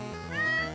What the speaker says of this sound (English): sometimes listening to cats meow is variety